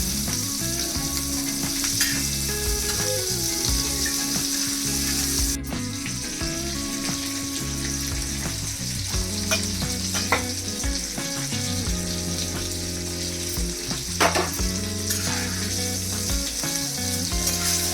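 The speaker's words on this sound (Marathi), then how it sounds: "गॅस कमी जास्त करून छान प्रकारे हे फिश तळून घेऊया" Bangda mackerel shallow-frying in hot oil on a gas stove, giving a loud continuous sizzle and crackle that holds steady throughout, with occasional soft clicks from handling and no voices.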